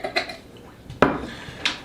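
A utensil mixes fresh minced jalapeno and a little jalapeno juice into a sauce for a spicy chicken sandwich, giving a few sharp clinks and scrapes against the bowl, close and fairly loud, with short quiet gaps between strokes.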